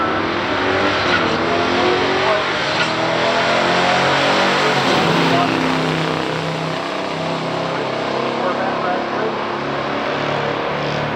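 Stock 1970 Chevrolet Corvette with a big-block 454 and a 1968 Buick GS 400 at a drag strip, a steady loud roar of racing engines and crowd noise filling the whole stretch with a commentator talking over it.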